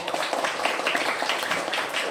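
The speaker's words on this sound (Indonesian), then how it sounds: "Kalau tidak ada kasih tepuk tangan buat temannya tadi" Schoolchildren in a classroom give a short burst of applause for a classmate, a dense, even patter of many hands clapping close by.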